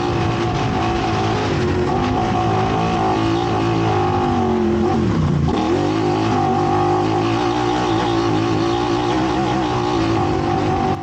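A side-by-side off-road vehicle races flat out on a dirt track during a 12-hour endurance race, its engine droning loud and steady with a brief dip and pitch drop midway before climbing again, no voices.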